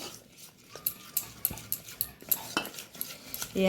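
A spoon beats baking powder and baking soda into a wheat-flour cake batter in a bowl, giving a quick, steady series of clicking taps and light scrapes, close and fairly soft.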